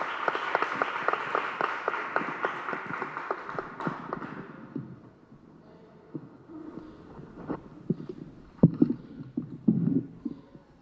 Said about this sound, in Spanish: Un aplauso para Rodrigo.